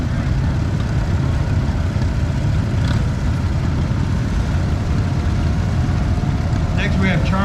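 A 1939 Allis-Chalmers B, a small farm tractor, runs steadily in a parade at the Oklahoma Steam and Gas Engine Show in Pawnee, its low engine drone continuous and fairly close amid outdoor background noise.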